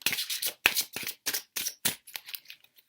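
Tarot cards being shuffled by hand, a series of about nine quick crisp riffling bursts in an uneven rhythm, close and clear with no talking.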